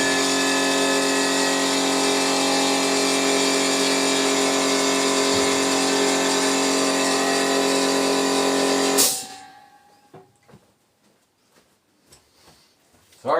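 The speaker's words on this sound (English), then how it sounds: "Sorry about the compressor." An air compressor runs in a workshop where a roof patch panel is being hand-formed for a green limousine. It makes a loud, steady, dense drone for about nine seconds, then cuts off abruptly, leaving only faint scattered knocks and rustles.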